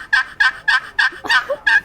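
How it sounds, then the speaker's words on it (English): A turkey box call, a wooden friction call, plays a hen yelp: six raspy, evenly spaced notes that step between high and low pitch, loud and close with no talking. "A basic hen yelp has a high note and a low note."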